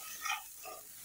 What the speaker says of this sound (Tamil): ஒரு 5 நிமிஷம் நல்லா கிளறி விட்டுட்டே இருங்க